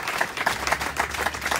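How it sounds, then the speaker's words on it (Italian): Crowd applause at a political rally in Seveso, a steady, moderately loud wash of clapping with a gentle pulsing rhythm. "fatele un applauso"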